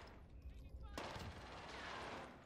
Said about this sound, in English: my next destination, which is the gunshots